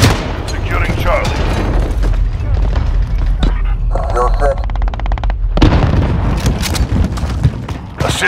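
Gunfire and booming explosions from Call of Duty Modern Warfare (2019) thunder loudly and continuously while game voices call out over the battle.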